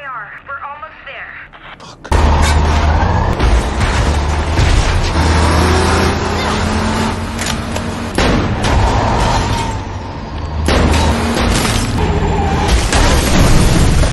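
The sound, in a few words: truck crashing into house and exploding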